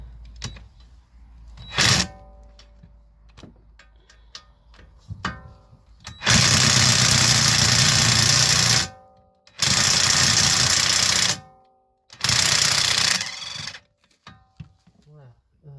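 A power tool loosens a car shock absorber during a shock, spring and mount change. It gives three loud, close, sustained bursts of a few seconds each, with quieter handling noises in the pauses.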